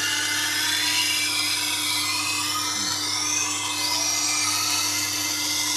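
Steady whine of a Tormek T8 wheel grinder sharpening a knife blade, a continuous loud tonal hum with a gliding pitch sweep in the middle, no talking.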